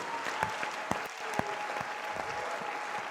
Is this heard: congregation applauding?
yes